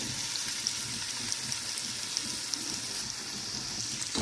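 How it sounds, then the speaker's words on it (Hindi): Onions frying in half a cup of oil in a pan, a steady close sizzle with dense crackling spatter running throughout, no voices. "इसके लिए हम लोगों ने 1/2 कप ऑयल डाल दिया हुआ है पैन में। अब हम इसमें प्याज़ों को ऐड कर देंगे।"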